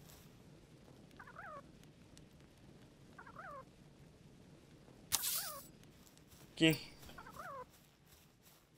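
Bird calls in the video game Palworld, a few short chirping phrases repeated at intervals over quiet game ambience, with a couple of louder bangs and a brief spoken word.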